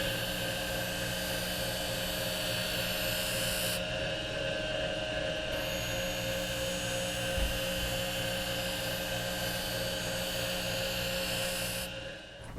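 A figure skate blade runs against the wheel of a sharpening machine, giving a steady, loud whining grind with a high metallic hiss that drops back and returns partway through, alone with no talk.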